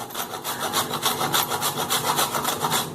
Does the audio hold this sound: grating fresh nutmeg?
yes